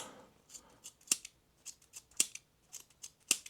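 Badger Outdoors multitool scissors snip through a belt in a series of sharp, close cuts, each a crisp click, coming in an uneven rhythm about every half second with quiet gaps between.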